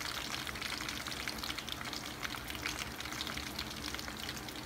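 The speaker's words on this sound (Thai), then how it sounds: "ปนแป้งอเนกประสงค์กับเนยแล้วก็น้ำมันนะครับให้มันเป็นรูนะครับผม" A dark roux of all-purpose flour, butter and oil fries quietly in a pan, giving a soft, even crackle and fizz throughout with no talking.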